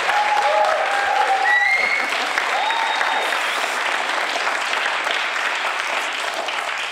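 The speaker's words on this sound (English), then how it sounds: "I hope you saved your biggest round of applause for last" A crowd applauds as hypnosis performer Harry Lucas is welcomed on stage, loud continuous clapping with a few whistles early on, easing slightly toward the end.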